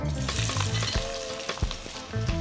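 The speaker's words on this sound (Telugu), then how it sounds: "ఇందులో సన్నగా కట్ చేసిన రెండు పెద్ద సైజు ఉల్లిపాయ ముక్కలు వేసుకుందాం" Thinly sliced onions hit hot oil with a steady crackling sizzle, close by, broken by a few clinks of a utensil stirring the pan.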